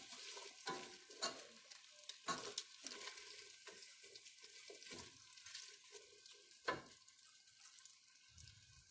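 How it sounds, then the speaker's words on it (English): Garlic and bay leaves sauté quietly in a pan. A soft, steady sizzle runs under scattered clinks and scrapes from stirring, with one sharper knock near the end. "We're going to add our garlic. We're going to add 2 bay leaves."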